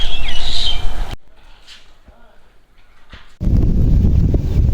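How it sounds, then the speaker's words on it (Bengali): A peacock calls in the large peafowl enclosure at Gazipur safari park, a loud shrill cry at the start that cuts off into quiet open-air background, with noisy outdoor sound returning near the end. "ময়ূরের যে এরিয়াটা বিশাল বড় ময়ূর ডাকতেছে এখানে"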